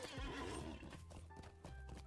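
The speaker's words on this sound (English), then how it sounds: "for when you're summoning a horse" A summoned horse in the Lord of the Rings Online video game neighs loudly at the start, followed by a run of clip-clopping hoofbeats, clear and close.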